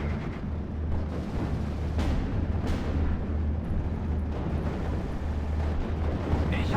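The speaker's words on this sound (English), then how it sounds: "Flak 88s going for the HE shell onto the Spitfire again." Flak 88 anti-aircraft guns firing high-explosive shells at Spitfires in the WWII strategy game Steel Division: Normandy 44, a constant loud rumbling barrage of distant booms layered over game battle noise.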